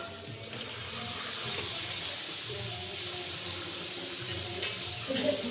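Yogurt-marinated rooster meat dropped into hot, cooked-down spice paste in a pan, giving a steady, soft sizzling hiss that continues evenly throughout with faint clinks near the end.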